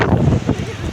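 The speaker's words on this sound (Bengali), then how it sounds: "এখানে খুব জোরে জোরে হাওয়া দিচ্ছে" Strong gusting wind at Digha beach by a rough sea, a broad roaring rush buffeting the microphone throughout a very short moment with no speech.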